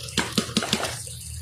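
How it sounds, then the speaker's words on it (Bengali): Water goes into a cooking pot already holding oil, ginger, garlic, cardamom and cinnamon, arriving as four quick close splashing pours before the sound eases to a quieter sizzle. "একটু পানি দিই"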